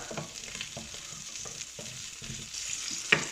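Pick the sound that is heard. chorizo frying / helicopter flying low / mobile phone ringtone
chorizo frying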